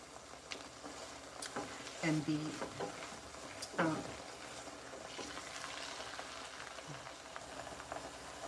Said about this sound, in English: it's frying the lemon zest and the lime zest and the um,